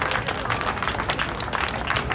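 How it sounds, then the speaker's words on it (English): A round of applause at a community gathering on London road closures, steady crowd clapping throughout, moderately loud and fairly close, with no talk over it. "Can we have a round of applause, please, for Al?"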